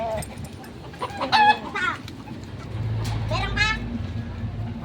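Chickens cluck in short bursts near a rooster pen, with a steady low vehicle hum in the background and people talking nearby.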